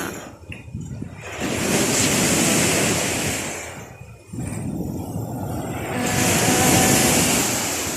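Ocean waves breaking on a beach at Barangay San Agustin, Manaccan, Santa Maria, Davao Occidental: loud, sustained roaring surf that swells in two or three big surges, with no voices over the wash.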